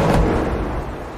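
A frag grenade detonates in the Roblox shooter Deadline, a single loud, booming blast that fades quickly.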